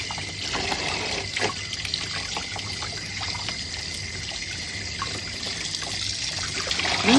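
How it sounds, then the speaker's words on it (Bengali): Warm water pouring and trickling while a small child is bathed after a haircut, a steady close splashing stream with faint knocks, swelling slightly louder at the end. "গরম জল"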